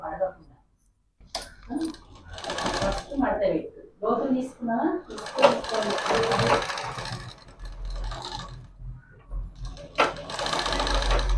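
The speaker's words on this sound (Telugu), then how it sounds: "ఇటు సైడ్ కూడా ఇంకోటి కుడతాము" A sewing machine stitches piping onto a half saree in close bursts of rapid mechanical chatter, broken by short pauses, with a voice talking over and between the runs.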